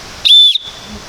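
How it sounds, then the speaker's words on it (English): Schrade SCSK1 survival kit whistle gives one short, shrill, piercing blast, loud and close, with quiet before and after. "It has a whistle on it."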